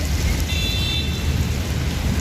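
Heavy rain falling across Delhi, a steady dense hiss of drops with a low rumbling undertone that holds at even loudness throughout, no voices.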